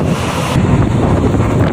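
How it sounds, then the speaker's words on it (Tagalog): Strong wind roars and buffets the microphone continuously, a loud, rumbling gust noise throughout with no voices. "Pati kusuga sa hangin lagi."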